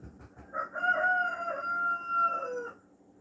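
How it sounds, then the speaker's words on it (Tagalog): A rooster crows nearby in one long, clear, drawn-out call, heard alone with no talk. "Nag-alarm na yung manok."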